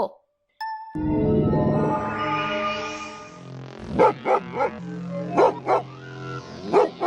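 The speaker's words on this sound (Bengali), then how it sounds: "এমন ঘেউ ঘেউ করছে কেন" Several sharp dog barks come in bursts over a sustained musical tone, loud and fairly close, spaced irregularly through the second half.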